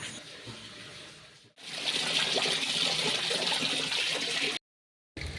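Tap water runs steadily from a faucet into a container as it is collected outdoors, a close hissing trickle that starts after a brief knock, continues evenly, then cuts out for a moment before resuming.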